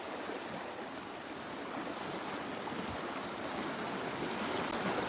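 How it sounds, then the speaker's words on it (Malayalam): Floodwater rushing with force during heavy-rain flooding, a steady, loud broadband roar of churning water that holds constant and swells slightly toward the end, with no voices. "ഇതിൽ എത്രയും ഫോഴ്സിൽ വെള്ളം വരും"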